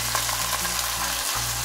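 Washed jeerakasala rice for a chicken biryani being mixed in a pot over a constant loud sizzle and low hum, with soft stirring scrapes, close up and without talking.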